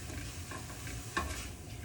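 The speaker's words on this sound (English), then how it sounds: "Just kind of gonna let it keep sauteing." Garlic sautéing in a pan for pasta puttanesca, a soft steady sizzle with a brief stirring scrape partway through, fairly quiet and with no talking.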